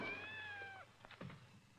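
A cat gives a drawn-out, wavering meow that fades into a few softer, scrappier cries, close by and alone with no one speaking.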